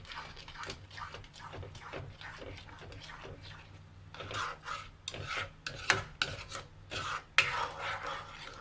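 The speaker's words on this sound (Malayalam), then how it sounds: "അതുപോലെ നമുക്കൊന്ന് മിക്സ് ചെയ്തെടുക്കാം" Spoon or spatula stirring and scraping a milk peda mixture of milk and sugar in a pan, a series of soft rasping strokes that grow louder and more irregular toward the end.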